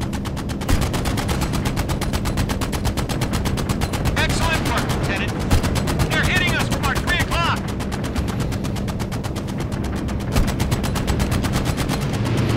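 A B-17 bomber's machine gun fires in a video game, a loud, continuous stream of evenly spaced rapid shots lasting throughout, with a voice briefly heard underneath.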